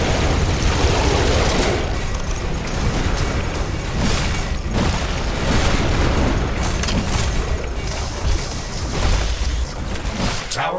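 Explosions and gunfire as a defense tower is destroyed in the sci-fi base-building game The Riftbreaker, a dense, loud barrage of booms and bursts rolling continuously without pause.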